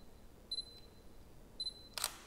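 Camera shutter fired with the shutter button on a Meike MK-6300/MK-6500 battery grip, two crisp clicks with short beeps about a second apart, close and clear over faint background hiss.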